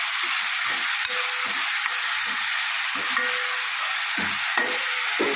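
Onions, tomatoes and garlic sauté in a hot pan, a loud steady sizzle close up with a spoon scraping and stirring at irregular intervals throughout, and no voices.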